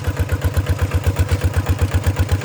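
RT100 walking tractor engine labouring under load while plowing, a loud, close, steady chugging with rapid regular low thumps and no voices.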